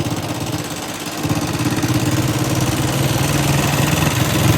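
A motorcycle engine drones loud and close on a 15–20 minute ride toward a hiking trail, a steady rumbling throb that grows stronger after the first second, with no voices.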